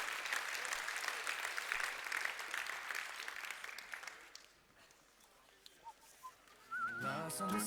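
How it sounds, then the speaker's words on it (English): Audience applause for speakers at a tech conference, dense clapping for about four seconds, then tapering into a quieter gap with a whistle and some voices, and a louder burst near the end. "One more round of applause for our 3 speakers"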